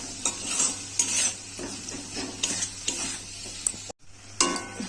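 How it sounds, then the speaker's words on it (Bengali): Spice masala for egg biryani being stirred and fried in a pan, with repeated scraping strokes of a spoon against the metal over a steady sizzle, close and alone with no talk, briefly dropping out near the end. "আমি মশলাটাকে ভালো করে কষিয়ে নেব"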